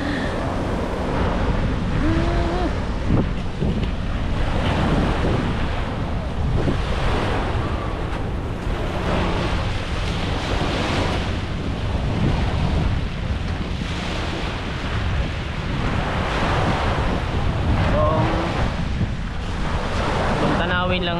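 Continuous surf and wind at Dolomite Beach on Manila Bay, loud and close with steady wind buffeting the microphone and waves rolling underneath throughout.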